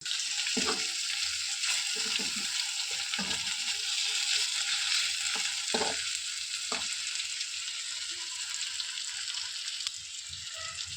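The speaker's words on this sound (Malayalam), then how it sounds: "നമുക്ക് ചെറിയ ലൈറ്റായിട്ട് പൊരിച്ചെടുക്കാം." Nei meen fish frying lightly in a little oil in a pan, a continuous close hiss and crackle with a few thumps and scrapes, no voices over it.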